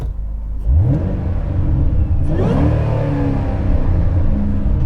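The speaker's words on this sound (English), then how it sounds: "And the exhaust note on this car sounds phenomenal." A supercharged 2008 Ford Mustang Shelby GT500 with a six-speed manual revving its exhaust: a deep idle rumble, then two sharp rising revs that climb and fall back, loud and close with no voices.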